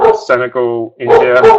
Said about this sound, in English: sorry if you can hear my dog barking in the background there